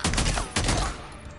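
Gunfire in the Days Gone video game: two loud bursts of rapid shots, one at the start and another about half a second later, each trailing into a fading echo.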